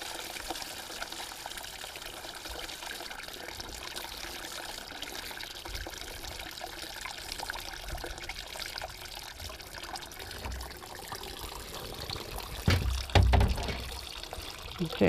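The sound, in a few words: water pouring out while cleaning copper bullets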